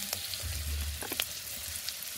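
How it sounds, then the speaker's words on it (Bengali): Chopped onion, crushed ginger and green chillies frying in a pan, a soft, steady sizzle with a low rumble and a few faint stirring clicks, close and quiet. "এবার এই সবগুলোকে একসঙ্গে ভালো করে ভেজে নেব"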